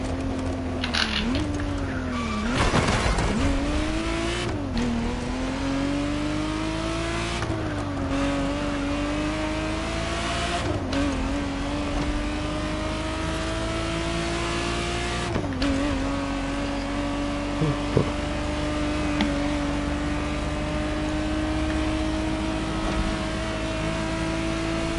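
Sustained engine drone of a 1991 car in The Crew Motorfest racing game, holding steady revs with several brief shifts and dips, continuous and fairly loud throughout.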